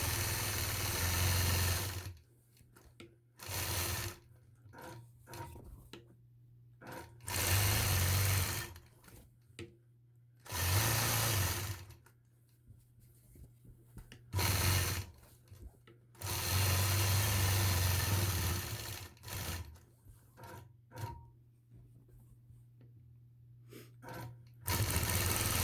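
Sewing machine quilting a flower quilt block, running in repeated bursts of a few seconds each with short pauses between, a steady mechanical hum and rapid needle stitching close by.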